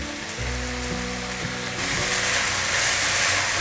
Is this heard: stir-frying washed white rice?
yes